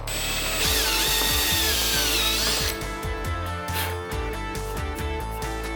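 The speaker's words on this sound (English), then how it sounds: "Pre-drill that hole" A power drill pre-drills a screw hole while building a bottle opener, whining loudly for a few seconds with a wavering pitch, then stopping, followed by scattered knocks and clicks.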